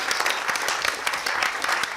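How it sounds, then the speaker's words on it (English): Dense applause from a quiz show audience in Mumbai cheering all four competing teams, a steady, even wash of many hands clapping with no talk over it. "Big round of applause for all 4 teams"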